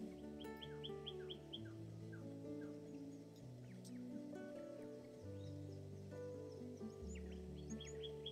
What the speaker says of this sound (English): Birds are going off.